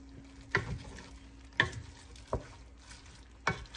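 Sotanghon glass noodles being stirred in a pan: four distinct scraping, clattering strokes of a utensil against the pan at uneven intervals over a low sizzle, close by.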